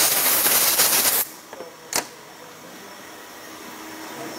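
Compressed air blasts out an Amadaxtreme mountain bike rear shock in a loud, rushing hiss that cuts off after about a second, followed by a couple of small clicks and a faint background hum.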